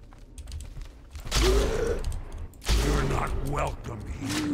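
Gunfire in the video game Blood West: two heavy shots about a second apart, each with a booming low thump, over faint background talk.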